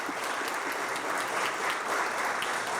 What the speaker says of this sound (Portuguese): Parabéns, uma salva de palmas para o Denis.